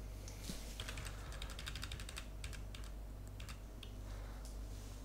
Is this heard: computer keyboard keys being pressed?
yes